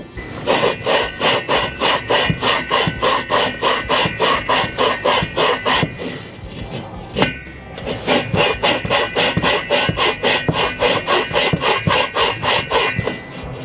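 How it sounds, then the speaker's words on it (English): An engine valve is lapped into its seat with grinding compound, giving a steady, fast back-and-forth rasping scrape in even strokes, close and loud, with one brief pause partway through. "You lift it up a little bit now and then to get the grind compound back in there"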